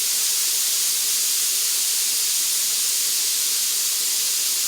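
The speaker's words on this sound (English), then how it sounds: "we're going to load our ground beef right into our pan" Ground beef sizzles in a hot pan with a loud, even hiss that holds steady throughout, with no talking over it.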